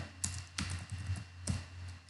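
Typing on a computer keyboard, a few sparse, close key taps in an irregular rhythm over a quiet low hum.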